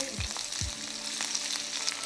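Chillies fry in hot oil with garlic and curry leaves, a close, steady crackling sizzle with two quick dropping plops near the start.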